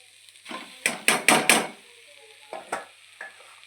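Deboned Bombay duck fish is sautéed in a pan, a run of sharp spatula strikes and scraping sizzle bursts clustered early, then a few sparser stirs against a quiet background.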